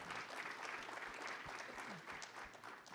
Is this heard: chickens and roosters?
no